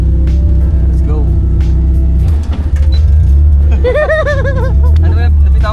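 A Mitsubishi 4G63 DOHC engine in a Tamiya owner type jeep runs and accelerates with a loud, close, steady engine drone while people talk over it.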